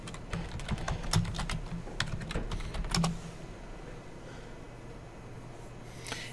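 Rapid keystrokes on a computer keyboard as a complex password is entered during a Hyper-V server setup, a dense burst of clicks for about three seconds, then quiet room tone.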